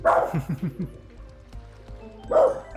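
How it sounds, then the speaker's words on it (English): A dog barks in a quick run of four yips near the start, then a louder single bark near the end, with a quieter stretch between, set against game background sounds. "There goes my dog again."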